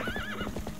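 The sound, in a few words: horse neighing, video game Zelda: Twilight Princess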